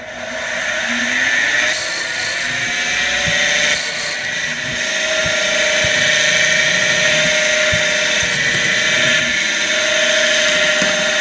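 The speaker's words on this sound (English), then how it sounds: "run the drill in and back it out so the chips can clear" A steady, loud drill whine runs throughout, a continuous machining drone with a few brief clicks and shifts as the bit peck-drills into metal on a Model 6450 mini mill.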